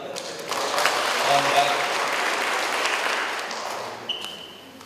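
Audience applause at the CIGPro 2024 session, a steady wash of many hands clapping throughout, with a brief spoken word partway through.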